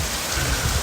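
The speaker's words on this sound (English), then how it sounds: "Well, it's raining, so you know it's Florida summer. Ooh, it's really starting to come on in here." Heavy summer rain in Florida pours down steadily as a dense, even hiss with a low rumble, loud and close with no pauses, and no voices over it.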